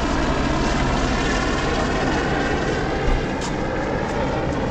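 A helicopter passes overhead on the mountain trek route to Hemkunt Sahib, a loud, continuous rotor and engine roar that fills the whole stretch with little change.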